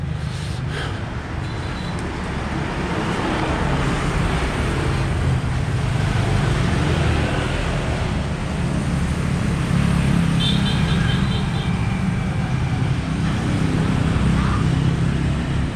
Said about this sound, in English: So this is light traffic.